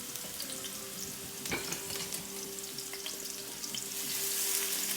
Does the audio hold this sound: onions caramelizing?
yes